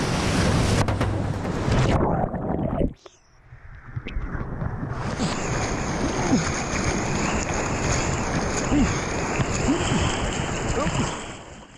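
Rough river water churns and rushes around a raft, with loud, continuous splashing and wind buffeting the microphone, broken by a brief drop in level early on.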